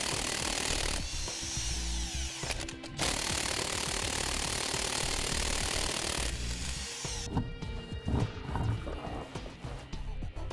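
An impact power tool spins off the rear wheel lug nuts of a 2013 Ford F-350 Super Duty in a garage, sounding as long continuous whirring bursts with short pauses between them, close and steady, with no speech.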